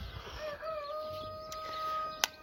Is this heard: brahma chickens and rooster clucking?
yes